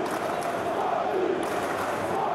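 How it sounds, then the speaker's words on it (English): Steady roar of a stadium crowd cheering in a football simulation video game, a continuous broad wash of massed voices at constant loudness throughout, with no commentary over it. "the crowd clearly like what they just saw"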